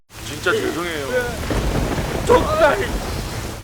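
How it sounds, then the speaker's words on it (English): A movie thunderstorm with a loud, steady wash of rain and deep rolling thunder across the whole stretch, with faint voice-like tones mixed in. "suddenly it starts to storm"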